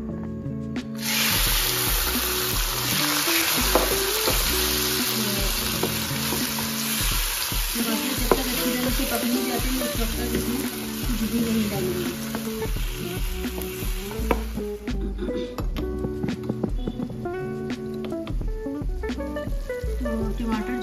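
Tomatoes hit about ten spoons of hot oil and erupt into loud, dense sizzling and spitting, with repeated stirring scrapes and clacks against the pan throughout, close and continuous.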